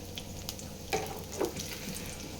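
Mustard seeds, cumin, garlic and dried red chillies splutter in hot oil for tempering, with a low constant sizzle broken by two sharp pops close by.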